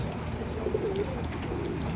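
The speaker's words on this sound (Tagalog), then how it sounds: "so ayun ang mga ibon ayun o" A soft pigeon coo rises briefly over a steady, noisy outdoor background hum.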